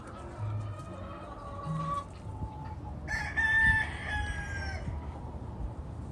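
A purebred Caguán rooster crows once, a loud, close cock-a-doodle-doo, after some quieter clucking and fowl sounds on a farm.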